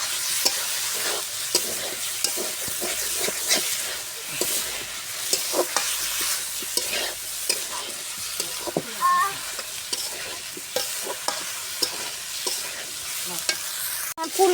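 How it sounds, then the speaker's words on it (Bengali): Fried potato, eggplant and cauliflower being stir-fried in a cooked spice paste, a constant sizzle punctuated by many sharp scrapes and clacks of a spoon against the pan at an uneven rhythm, close and alone without talk. "এর মধ্যে এখন আমি আলু, বাগুন, ফুলকপি ভাজা সব একবার দিয়ে কষাই নিব"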